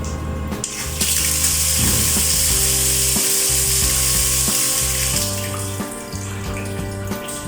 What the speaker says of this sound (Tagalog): tulo siya ng tulo.